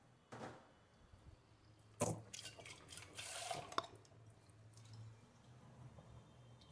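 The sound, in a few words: pouring a glass of water into a wok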